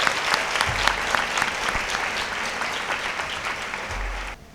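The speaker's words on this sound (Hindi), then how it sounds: "मैं खुशी के साथ इस्तिकाम के सैक्रामेंट के लिए आप सबको कबूल करता हूँ। जोरदार तालियों के" Loud applause from a congregation fills a Catholic church during a confirmation service in Lahore, a dense steady clatter of many hands that fades out at the end.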